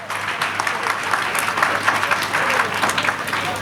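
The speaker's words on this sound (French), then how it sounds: "Des applaudissements beaucoup plus nourris." Sustained, fuller crowd applause at a Plan International children's day celebration, many hands clapping steadily with no voices over it.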